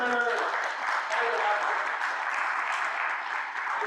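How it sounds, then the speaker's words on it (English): Meeting attendees around a council table applaud to welcome new members, a steady crowd of claps holding for several seconds after a brief voice at the start. "a quick round of applause"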